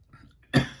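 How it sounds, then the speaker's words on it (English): A single sharp cough bursts out near and loud, then tails off, set off by dust from freshly opened 2022 Topps Archives baseball trading cards; quiet background before it. "the dust or something off of these cards and go right in my throat and make me cough"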